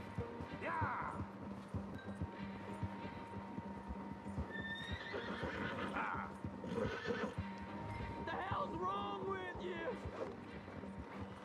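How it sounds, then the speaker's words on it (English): Horse neighs and whinnies amid steady clip-clopping hooves in the Western video game Red Dead Redemption 2, with game music and voices talking over much of it. "Come on, Horsey."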